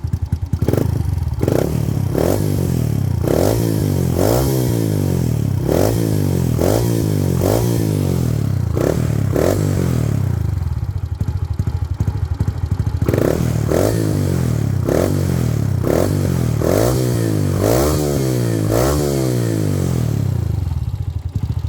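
A modified street-racing car engine revs hard in repeated sharp bursts, each rising and falling in pitch, with a rough, clattering tone that stays loud and close throughout, with a short lull near the middle.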